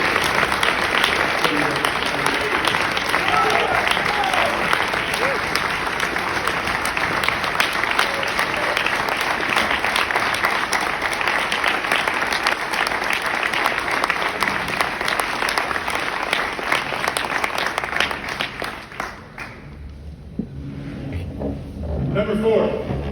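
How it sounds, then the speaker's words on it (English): A large audience at a West Point Hall of Fame ceremony applauds career soldiers in a loud, steady ovation that lasts about nineteen seconds, then dips briefly and swells again. "I'd like to get a round of applause to the career soldiers who are here tonight"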